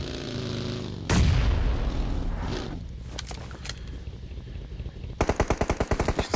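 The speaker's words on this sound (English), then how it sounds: "Amarit throwing some grenades now" Grenades detonating in PUBG Mobile: one heavy boom lands and rumbles away, followed by scattered sharp cracks and then a rapid rhythmic burst of fire toward the end, all fairly loud with no talk.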